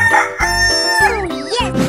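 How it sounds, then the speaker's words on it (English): A rooster gives one loud, close crow from an animal-transformation cartoon, a strained, rising and falling cock-a-doodle-doo that fills the whole moment on its own. "Chicken."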